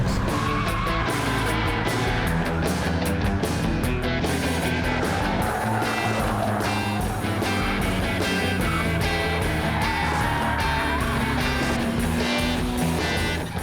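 Renault Clio driven hard around a race track, engine revving loudly over a dense, continuous mix of tyre noise and squeal, with music-like layered sound underneath and no voices.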